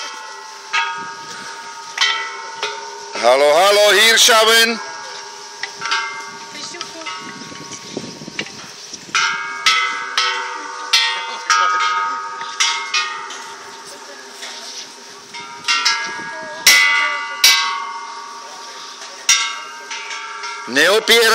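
A temple bell is struck repeatedly at Teepangkon Temple, ringing with long, sustained metallic tones that overlap, loud and close, while a voice is heard briefly in between.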